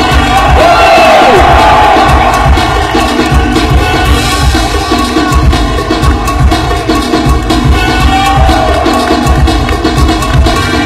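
A crowd at a break dance battle cheers and shouts in a loud, dense roar that carries on without a break for about eleven seconds.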